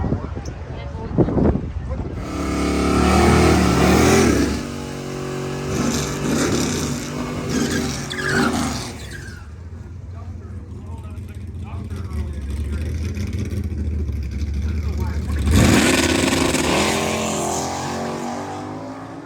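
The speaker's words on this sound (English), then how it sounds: "In the wheel standing, two-tone 55 Chevy on the line by Ward." At a drag strip, a wheel-standing two-tone 1955 Chevy roars at the start line and launches in loud bursts of engine noise, while an announcer talks over the PA throughout.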